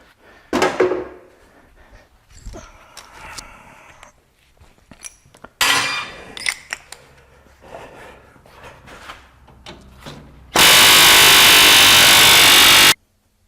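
Rivets are set with a tool during metal fabrication in a shop: a series of sharp metallic clanks and knocks, then a long, loud, steady burst of harsh noise near the end.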